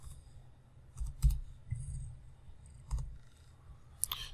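A computer mouse clicks several times while working in Solid Edge CAD software, with sharp, quiet clicks spaced a second or more apart in an otherwise hushed room.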